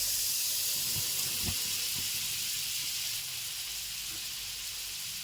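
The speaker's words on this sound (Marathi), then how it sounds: "पॅन चांगला तापलेला आहे त्यामध्ये आपण सर्वात आधी बटर टाकूया" Butter sizzling steadily in a well-heated pan, a soft continuous hiss with a few faint low knocks early on, no voices.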